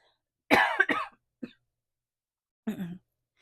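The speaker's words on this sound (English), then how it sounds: "Excuse me, I'm going to cough." A single person coughs twice close to the microphone, then gives a short throat-clearing cough after a pause, with silence between.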